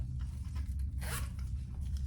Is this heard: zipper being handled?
yes